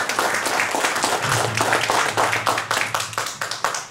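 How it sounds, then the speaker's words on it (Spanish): A crowd at a business opportunity meeting claps together, dense applause that thins toward the end into more separate, distinct hand claps. "Dense un aplauso a ustedes porque nosotros también se lo vamos a dar."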